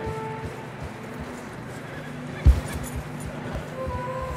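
In the snowy Red Dead Redemption 2 video game, horse hooves plod steadily through the snow, with a single louder snort or thump partway through, set among soft wind and ambient game sound.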